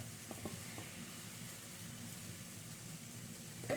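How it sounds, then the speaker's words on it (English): A soft, steady sizzle of flatbread batter in a hot pan, a continuous gentle hiss with a few faint clicks and a brief clatter at the end. "we want to hear this sizzle when I add the batter"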